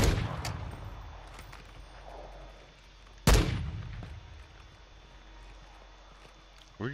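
Gunfire in a Call of Duty match sounds as a sharp close shot near the start and a louder crack midway, each trailing off, over faint game ambience with no talk.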